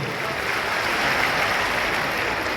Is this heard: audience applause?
yes